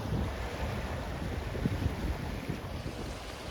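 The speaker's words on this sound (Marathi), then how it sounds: "लाटा बघू शकता तुम्ही, लय खवळल्या" Rough sea waves roll in on the shore under strong wind that buffets the microphone, giving a steady, close, noisy roar with low rumbling surges.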